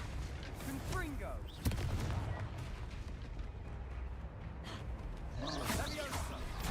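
Fire spells burst repeatedly in a Hogwarts Legacy combat scene: a sharp blast near the two-second mark, then ongoing roaring, crackling explosions under continuous game noise, with voices calling out spells over them.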